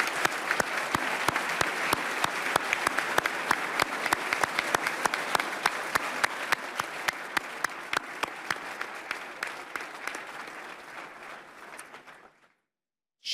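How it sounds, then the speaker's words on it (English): A chamber audience at a governor's State of the State address applauds, dense at first, then thinning into rhythmic, sharper individual claps that fade out before a brief silence. "So let's give a big round of applause to Attorney General."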